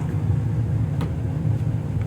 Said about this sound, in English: sorry about the noise of the furnace.